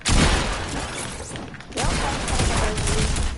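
Gunfire in a shooter video game, a dense burst of shots opening loud and close, then a brief lull before more firing and sharper impacts, with a player talking over it.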